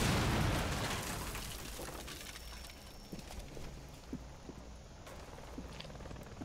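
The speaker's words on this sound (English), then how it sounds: "Hold on, I'm gonna blow the other side. I just threw a grenade in, too." A grenade explodes inside a building in Rainbow Six Siege during a Bank team deathmatch: a loud boom at the start fades into a rumbling tail, then a few faint scattered pops.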